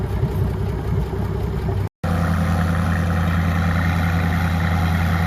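A Minneapolis Moline tractor engine idles steadily at a Nebraska tractor pull, its low, even rumble holding throughout apart from one brief dropout.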